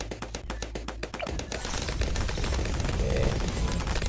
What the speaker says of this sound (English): Let's place a helipad, place it on automatic pursuit and faster firing.